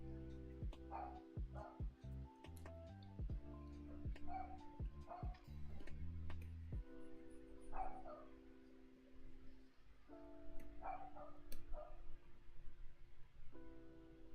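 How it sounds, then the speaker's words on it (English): A dog barks outside a room in short irregular bursts, muffled and somewhat distant, over music with a steady ticking beat. "It's just they keep barking."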